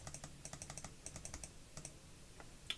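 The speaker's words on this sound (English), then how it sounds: "Yeah, I thought I heard a lot of mouse clicks then." Rapid, uneven computer mouse clicks come in quick bursts and pauses during an online Chaos Galaxy card game match, fairly close and alone without talk.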